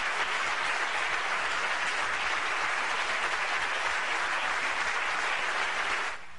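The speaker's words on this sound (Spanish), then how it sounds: "Y ovación de pie." A standing ovation fills the Parliament of Catalonia after a vote on a referendum, dense sustained applause from a large chamber that holds steady for several seconds before dropping off abruptly at the end.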